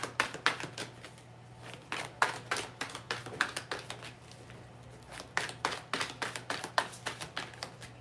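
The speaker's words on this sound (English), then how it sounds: "you see how long I'm shuffling our cards, Leo" Tarot cards being shuffled during a live reading, a long run of quick riffling bursts and soft taps repeating in clusters, close and fairly quiet over a low steady hum.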